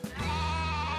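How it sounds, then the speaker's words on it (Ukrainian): A single goat bleats once, loud and close, a sustained wavering call lasting most of the second. "Особливо тут цінує звук козячого бекання."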